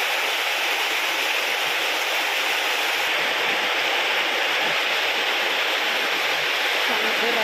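Heavy rain pours at night in Pekanbaru on the eve of Eid, a dense, steady roar of water that stays loud and constant throughout.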